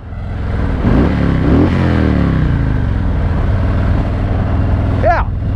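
A motorcycle engine drones steadily up close, with a couple of revving rises early on and a brief higher whine near the end.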